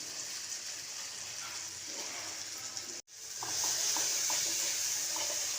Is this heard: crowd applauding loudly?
no